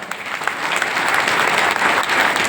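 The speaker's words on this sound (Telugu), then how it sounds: "గట్టి క్లాప్స్ కొట్టొచ్చు." A seated audience at a business seminar applauds loudly, with dense, steady clapping that stays at an even level throughout and has no voices over it.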